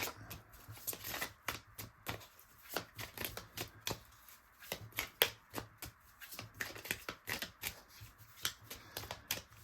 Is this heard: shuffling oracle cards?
yes